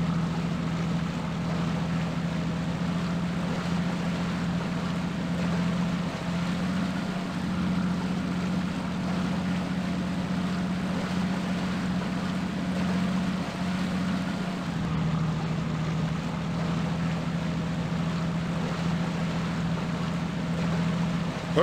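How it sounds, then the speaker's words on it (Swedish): A boat motor runs steadily out on the open sea, a continuous low drone with a brief dip partway through, close and fairly loud, with no voices over it. "Hörde du, stäng av motorn."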